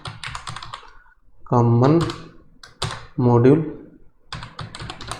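Keys clatter in quick bursts on a computer keyboard while someone writes code for an Angular 19 reactive forms project, the tapping sitting under and between a man's spoken explanation.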